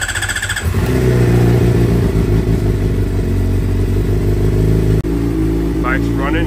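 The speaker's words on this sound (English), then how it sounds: "Bike's running and it sounds good." A salvage 2019 Suzuki GSX-R750 sport bike engine starting and idling close by, loud and steady with a rough mechanical clatter, a brief cut near the end and a person talking over it.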